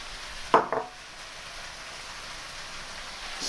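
Beef hitting a hot wok for beef lo mein, a brief clattering splash followed by a steady, even sizzle at moderate level, with no talk.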